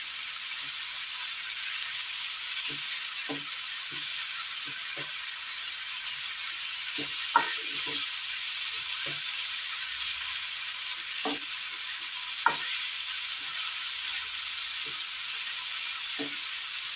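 Gooseberry (nellikka) thoran mixture stirred in a pan, giving a steady sizzling hiss broken by scattered soft scraping clicks of the spoon, with no talking.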